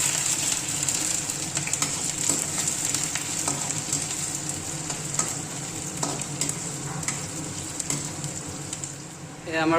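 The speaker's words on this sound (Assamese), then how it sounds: "এতিয়া আমি পিঁয়াজখিনি ভাজি ল'ম ধুনীয়াকৈ।" Onions frying in hot oil for a pork recipe, with a steady loud sizzle and occasional stirring scrapes running continuously throughout.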